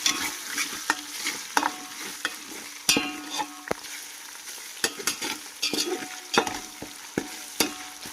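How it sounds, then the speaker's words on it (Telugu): Ginger paste fries in a pan with a constant close sizzle, while a spoon scrapes and taps against the metal in frequent sharp strokes, with no speech. "అల్లం పేస్ట్ కూడా బాగా పచ్చివాసన పోయేంత వరకు అయితే బాగా ఫ్రై చేసేసుకోవాలి"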